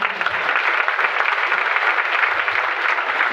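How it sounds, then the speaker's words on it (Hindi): Seminar audience applauding, a dense sustained clapping from a crowd in a hall, continuous and fairly loud throughout. "जबरदस्त ताली आपके लिए।"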